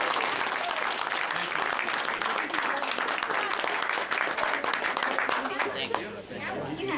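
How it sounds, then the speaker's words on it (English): Applause from the crowd at a borough council meeting, sustained dense clapping that runs loud and even for several seconds before thinning toward the end, with chatter mixed underneath. "Let's give one more round of applause."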